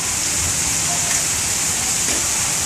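Steady heavy rain pours down at midday on an outdoor work site where a laborer climbs over tires, a dense, continuous hiss filling the whole stretch, loud and close with no voices.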